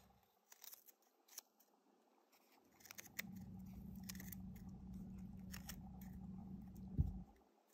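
Scissors trimming craft material while assembling a Quidditch-themed cloche kit: a few light, close snips early on, then a steadier crunching, cutting texture that ends with one sharper click.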